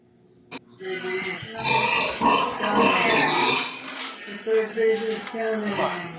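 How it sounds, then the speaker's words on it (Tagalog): A pig that has just given birth grunts and snorts repeatedly in a farm pen, loud and close, with people talking over the sounds. "So nanganak na po yung baboy."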